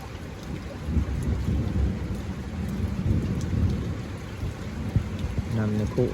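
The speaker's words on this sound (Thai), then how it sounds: "มีแต่ฝนตกอันนี้" Heavy rain pours in a steady roar during a thunderstorm in rural Thailand, with deep rumbles of thunder rolling beneath and occasional closer drips and splashes.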